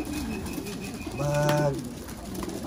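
A pigeon gives a single short, soft coo, a low hollow note heard close against a faint background hum.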